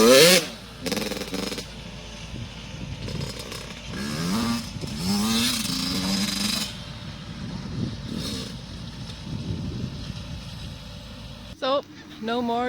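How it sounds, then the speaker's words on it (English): A 1993 Honda CR125R two-stroke motorcycle engine runs with rising and falling revs. Several throttle blips sound over a rough, buzzing idle, and people talk intermittently over it. "It's time to test the bike and see if it runs more than 10 minutes"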